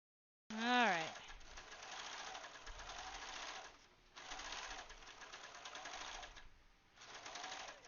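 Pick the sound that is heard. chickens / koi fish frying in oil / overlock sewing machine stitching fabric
overlock sewing machine stitching fabric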